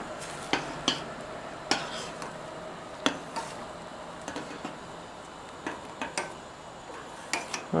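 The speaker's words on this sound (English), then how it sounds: "Let me just get a spoon here to mix this up." Efoods Direct creamy potato soup mix is stirred in a pot with a spoon, giving faint, irregular clinks and taps against the metal over a soft background hiss.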